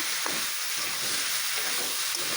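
Spiced mixed vegetables sizzle steadily in a pan as they are stirred and sautéed, a close, continuous hiss broken by soft scraping, with no voices.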